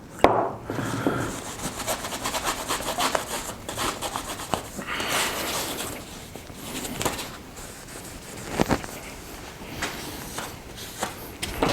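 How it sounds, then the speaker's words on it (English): A rag soaked in WD-40 rubs over new Narex 8116 chisels, giving close, uneven scrubbing and wiping strokes with occasional light knocks and clatter. "just going to take the WD-40 on the rag and give it all a good clean up"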